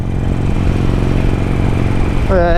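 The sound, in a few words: Harley-Davidson Sportster 1200 Iron motorcycle riding, stock mufflers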